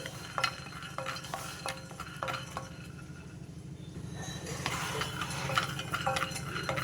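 Peanuts stir-fried in a pan, with a regular series of close metallic scrapes and ticks from the spoon against the pan over a low crackling fry. A brief pause in the stirring comes midway, and nobody speaks.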